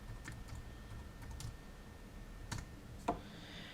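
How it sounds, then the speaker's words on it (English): Light typing on a wireless keyboard connected to a Sony Xperia Z phone, a few soft scattered key clicks with two sharper taps late on, close and quiet with no talking. "I can type in to the URL using the keyboard"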